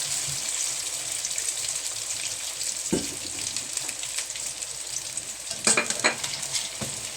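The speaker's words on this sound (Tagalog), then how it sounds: "Prituhin natin na yan." Potatoes and carrots frying in a pan, a bright continuous sizzle with occasional louder scrapes and stirring knocks, heard close.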